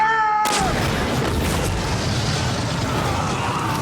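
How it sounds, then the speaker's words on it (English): An 18-pound cannon fires: a sudden deep boom cuts in after a brief quiet moment, then a long rumbling roar and noisy wash that fills the rest. "The cannon, 18-pound cannon over there, is going to fire."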